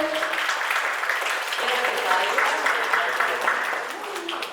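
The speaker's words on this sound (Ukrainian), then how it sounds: "Привітаємо оплесками" An audience applauds at the opening of a photo exhibition in Kremenchuk, a continuous, moderately loud patter of many hands that holds steady and then eases slightly near the end.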